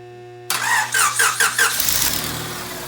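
A pre-2009 Honda donor engine turns over with a quick rhythmic cranking of about five beats, then catches and settles into a steady idle, close and fairly loud.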